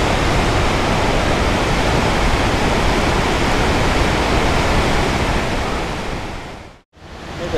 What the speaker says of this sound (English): this is Tapeats Creek, which flows up to the Colorado.